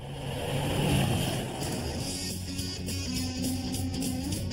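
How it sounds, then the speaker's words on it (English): Race car engines roar and whine at high revs at the Indianapolis 500, a loud sustained drone with rising and falling pitch as cars pass. "this place comes alive with the sound of race car engines at the Indy 500"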